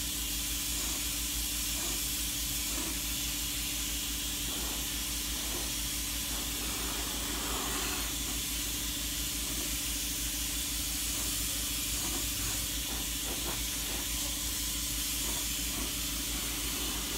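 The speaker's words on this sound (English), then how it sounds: "you can airbrush on anything is what I'm trying to show you" An airbrush sprays paint onto an ordinary bathroom tile, giving a steady, close hiss of compressed air that runs unbroken, with small flutters in the spray as the trigger is worked.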